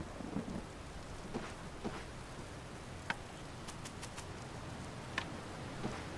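Rain and a thunderstorm in the survival video game Card Survival: Tropical, a soft, steady patter of rainfall with scattered drop ticks and low rumbles, quiet and continuous with no speech.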